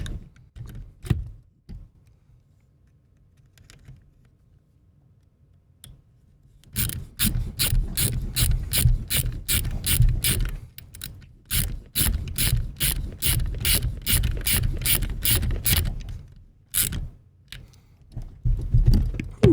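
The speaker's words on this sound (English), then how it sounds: "Nothing better on a Thursday evening than the sound of a ratchet." A hand ratchet tightens screws on an electric RC funny car upgrade kit, starting with a few scattered clicks and quiet handling, then breaking into long runs of rapid, close, crisp clicking with brief pauses between strokes.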